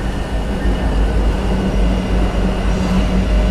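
A train rolls past at night near a cyclist, a loud, steady rumble of rail cars with a low mechanical drone, heard close with no talking over it.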